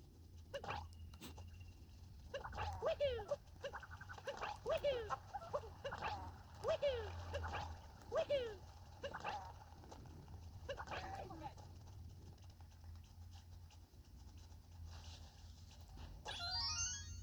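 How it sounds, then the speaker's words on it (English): Sheep in Super Mario Odyssey's Mushroom Kingdom give a series of short, falling bleats over steady game music, with a final rising call near the end; playback runs at double speed. "you've heard all 6 sheep"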